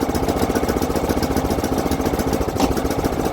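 A John Deere GX75 lawn tractor engine idles after being restarted, a loud, close, steady chugging putter with an even rapid pulse throughout.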